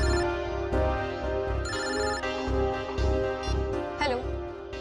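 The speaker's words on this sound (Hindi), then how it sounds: "मैं अभी नम्रता को फोन करता हूँ।" A telephone rings insistently during a call in a CID television scene, a loud tonal ringtone melody that repeats steadily throughout, with some background music underneath.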